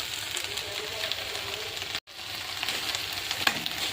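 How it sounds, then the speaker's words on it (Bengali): Okra frying in a pan, giving a soft, steady sizzle at low volume with faint crackles throughout and a brief dropout midway. "আর এখানে হচ্ছে ভেন্ডি ভাজা।"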